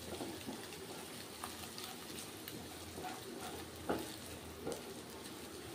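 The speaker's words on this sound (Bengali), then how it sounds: "এগটা ভেজে নিচ্ছি। ভেজে এটার মধ্যে তুলে রাখবো।" A cracked egg sizzles in a frying pan, a soft, steady crackle of hot oil with occasional louder spits and light utensil taps, faint and close, no one speaking.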